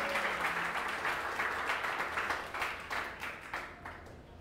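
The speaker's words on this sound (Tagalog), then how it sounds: "Yung po the best na palakpak para kay Jesus." A congregation gives a round of applause during a church sermon, with steady massed clapping that holds at close range and then thins out toward the end.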